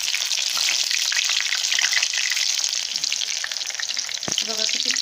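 A veg burger tikki patty fries in oil in a pan, giving a steady, close, continuous sizzle and crackle with a brief clink near the end.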